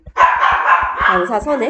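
A pet puppy indoors barks and yips loudly and close by, a quick run of high, insistent calls heard on their own.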